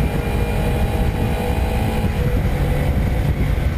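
A 2013 Kawasaki Ninja 300 motorcycle accelerates under a rider, its engine a steady, fairly loud drone with wind and road roar that holds throughout without pause.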